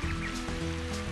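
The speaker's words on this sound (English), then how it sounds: "It is raining" Rain falls steadily in a golf video game, a continuous broadband hiss with soft low rumble, fairly loud and alone for about a second.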